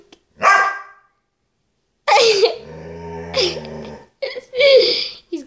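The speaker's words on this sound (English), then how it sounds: "Stop barking." A dog barks sharply three or four times nearby, loud and separated by brief pauses, with a low rumbling growl in between.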